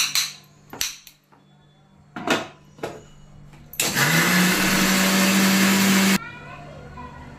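An electric mixer grinds onion into paste with a steady, loud whirring roar lasting a couple of seconds. A few sharp clinks and knocks come first, then the motor stops abruptly.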